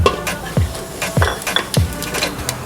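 Whole spices and fennel seeds hit hot oil in a pan for Tamil-style veg kurma, giving a steady close sizzle broken by a few sharp scrapes and clinks of a spoon stirring, with no voices.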